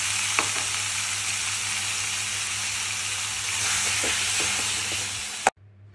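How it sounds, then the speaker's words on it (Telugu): Loud, steady sizzling of chopped tomatoes frying in hot oil, a constant crackling hiss with a few soft clicks, cut off abruptly near the end. "ఆయిల్ కొంచెం వేడెక్కిన తర్వాత మనం కట్ చేసి పెట్టుకున్న టమాటాలు కూడా వేసుకుని వేపుకోవాలి"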